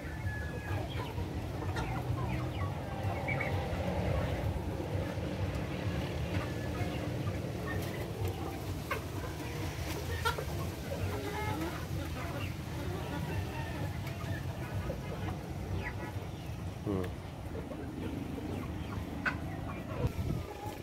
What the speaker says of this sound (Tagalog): Sana na kita nyo yung mga alagang manok ni nanay dito sa kanyang farm.